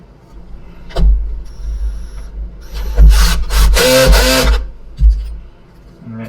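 Screws are driven back into the housing of a Miele C1 vacuum cleaner, giving loud, close grinding and rubbing bursts over a low rumble, the strongest run lasting about two seconds near the middle and a short burst following.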